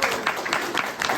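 Applause from the audience at a community voter forum in Madera, California, a steady patter of clapping across the whole moment with no pause.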